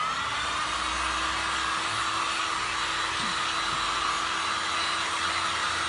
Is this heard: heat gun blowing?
yes